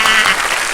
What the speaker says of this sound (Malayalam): എല്ലാവരും താത്താക്കൊരു ക്ലാപ്പ് കൊടുക്കും